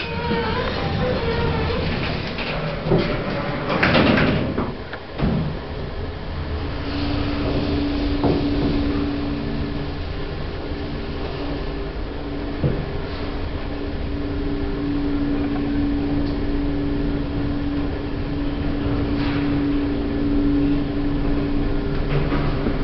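A generic elevator running in a building, with a sustained mechanical hum and rumble, clunks and a door movement near the start, and a steady tone from the moving lift carrying on throughout, without talk.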